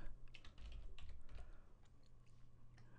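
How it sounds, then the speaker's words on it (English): Computer keyboard typing while entering text, a quick run of close, light key clicks that fades into quieter taps and room hiss. "clicking and entering the text."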